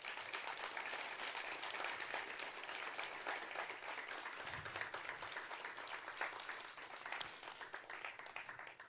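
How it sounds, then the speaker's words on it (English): A crowd at a university matriculation ceremony gives sustained applause, many hands clapping in a dense, even wash that holds at moderate level throughout, heard from some distance in a large hall. "Let's please give them a big round of applause."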